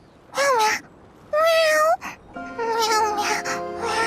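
A cartoonish cat from the video game Infinity Nikki meows three times in quick succession, each call loud, close and rising slightly in pitch, with the last one drawn out and sustained over a soft background tone.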